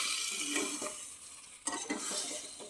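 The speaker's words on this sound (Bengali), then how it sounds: "নিচে তলাতে লাগে যাচ্ছে তার জন্য একটু জল দিয়ে দিচ্ছি" Spices sizzle and are stirred in a pan. A little water is poured in to stop them sticking, and a sharp hiss flares partway through, with spoon scrapes and no voices.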